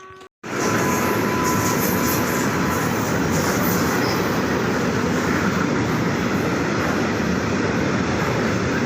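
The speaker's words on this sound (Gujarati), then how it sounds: "પાછળ ટ્રેન તૈયારી છે, ટ્રેનમાં બેસીએ પછી તમને મળીએ આપણે" A loud, steady rumble of rolling train wheels and machinery fills a railway station after a short quiet start, continuous and close.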